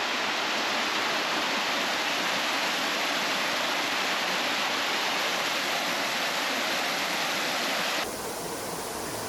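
Clear mountain valley stream at Sogeumgang Valley on Mt. Odaesan, a dense, steady rushing of flowing water heard close and loud without pause.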